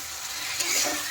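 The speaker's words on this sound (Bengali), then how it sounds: "এখন আমি দিয়ে দেবো জল।" Water poured into a pan of frying spiced potato curry for a besan fuluri aloo dish raises a brief steady hiss and bubbling sizzle that swells slightly near the end, with no voices.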